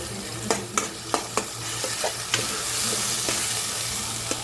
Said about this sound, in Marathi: तर हे वाटण आपण छान परतून घ्यायचं आहे मस्तपैकी तेल सुटेपर्यंत